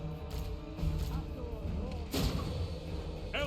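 Cannon fire booms in a Total War: Warhammer battle at Tor Yvresse, with a few heavy thuds and blasts, the loudest near the middle, over a dense background of battle noise and game music.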